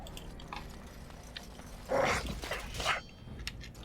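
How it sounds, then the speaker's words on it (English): A dog in the video game Dragon Age Origins barks a couple of times over quiet in-game ambience, with short, fairly faint yelps and whines. "Doggy."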